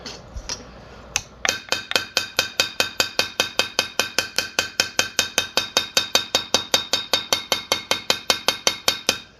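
A small hammer strikes a copper bracelet in a steady run of about thirty-five sharp metallic taps after a few scattered opening hits, each ringing briefly, close and loud.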